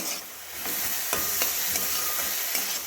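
Grated carrot for halwa is stir-fried over a medium-low gas flame, salted, with a close, hissing sizzle and repeated scraping strokes of the spatula through the pan.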